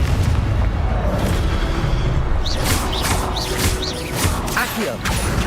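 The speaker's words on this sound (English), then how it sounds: "Confringo!" A Confringo blast spell fired in the video game Hogwarts Legacy, a loud booming burst with crackling impact over constant game rumble and music.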